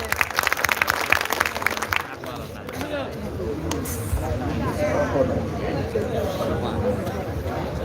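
An audience at a local community meeting for a council candidate claps briskly for about two seconds, then the clapping gives way to a voice speaking over a murmuring crowd.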